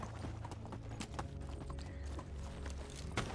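Donkey hooves clip-clop steadily in the medieval life-sim game Medieval Dynasty, a continuous rhythmic trotting over a low ambient game background with faint music-like tones.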